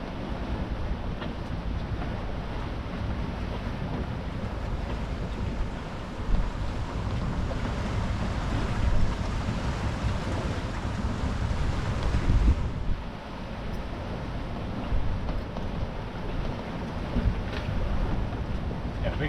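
Big seas off the coast between Weymouth and Poole pounding around a small boat, with continuous wind roar buffeting the microphone and heavy wave wash swelling and easing, a voice faintly audible beneath.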